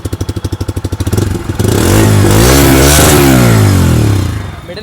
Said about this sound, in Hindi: साथ में अगर हम बात करें इसके एग्जॉस्ट नोट की तो एग्जॉस्ट नोट मैं आपको सुना देता हूँ।